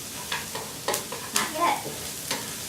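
Garlic sizzles in a pan with shallots while a utensil stirs it in several soft scraping strokes, a low steady frying hiss underneath and no talking.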